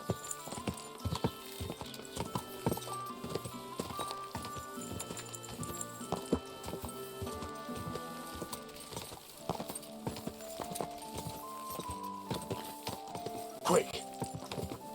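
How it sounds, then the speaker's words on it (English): Horse hooves clip-clop along a road in the medieval game Kingdom Come: Deliverance II, a steady rhythm of hoofbeats mixed with game music and sound effects while a person talks over it. "in the middle of the roads? It's like the second or third time I've seen that."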